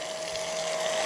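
A portable water pump for camping runs steadily with a constant whine and hissing flow as it pushes out air, close and brief.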